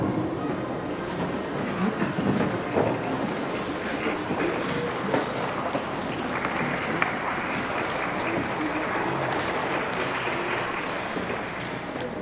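A congregation applauding at a Catholic Mass, a sustained, fairly loud bed of clapping with rustle and murmur mixed in, steady throughout with no clear speech on top.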